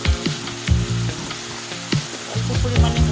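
Turmeric-coated fish curry of local shingi catfish frying in a pan while being stirred, giving a steady close sizzle broken by repeated scraping strokes of the spoon in a fairly regular rhythm.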